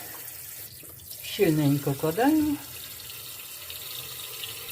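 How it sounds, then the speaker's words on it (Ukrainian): Water running steadily into a pot packed with meat for a budget home-canned stew, a continuous close pouring hiss throughout, with a brief spoken phrase over it. "І заливаємо його водою"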